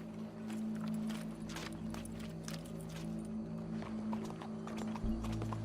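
Horse hooves clip-clop steadily in Red Dead Redemption 2, a quick even rhythm of hoof strikes over a constant low hum of game ambience, moderately loud throughout.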